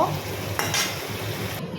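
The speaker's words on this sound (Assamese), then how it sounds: "মই প্ৰথমে এনেকৈ অকণমান কাঠফুলাখিনি ভাজি লওঁ" Wood ear mushrooms fry in oil in a pan, giving a steady, close, fairly loud sizzle that runs without a break. A brief scrape of a utensil cuts through near the middle.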